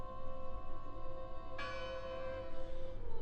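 A church bell tolls in the video game Draugen, a sustained ringing tone with a fresh strike midway that sets off a second bright, lingering resonance over a low ambient hum.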